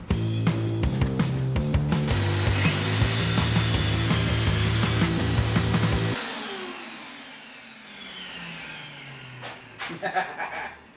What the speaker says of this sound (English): I can get away with just getting close to it with the jigsaw, and then the plywood is going to cover that curve anyway.